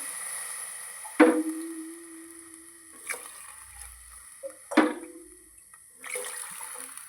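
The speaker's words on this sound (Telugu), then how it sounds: "4 గ్లాసులు వాటర్ వేసుకుందాం" Water pours into a pot of rice in several separate splashy bursts, each fading quickly, with a quiet steady hiss underneath.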